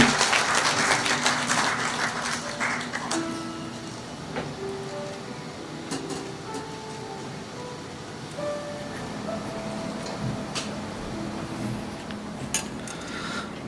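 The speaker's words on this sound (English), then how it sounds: "Let's give them all a round of applause" Applause from a gathering at a hospital staff memorial service, a steady wash of clapping across the room that slowly thins out, with faint clinks and a few low voices underneath.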